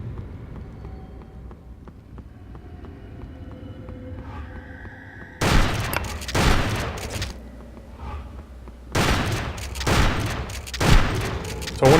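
A shotgun firing in Hunter: The Reckoning on Nightmare Mode: after a quiet stretch, two loud, close bursts of blasts and impacts ring out, each lasting a couple of seconds.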